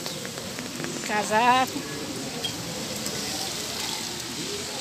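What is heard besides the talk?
heavy rain falling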